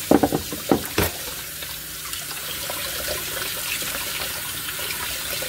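Tap water runs steadily into a sink where balloon ice is being melted, with a few clunks and splashes at the start before a constant close rushing flow.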